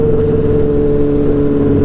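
Honda CBR600RR 600cc sport bike engine droning loud and close in a steady high whir, held at constant revs without talk.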